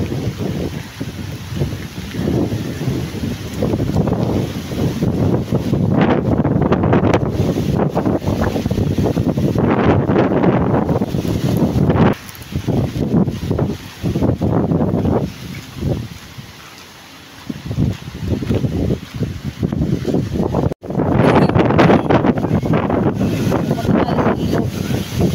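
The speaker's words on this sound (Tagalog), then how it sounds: "dahil sa sobrang lakas ng hangin." Strong, gusty typhoon wind buffets the microphone in loud roaring surges that rise and fall, with brief lulls between blasts.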